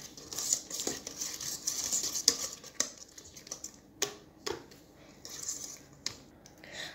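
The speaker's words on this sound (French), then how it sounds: "Et là maintenant je vais rajouter une cuillère à soupe de levure chimique. Et je recommence à remuer." Cake batter being stirred with a spoon in a bowl after a tablespoon of baking powder is added: irregular soft scraping and tapping strokes, close and fairly quiet.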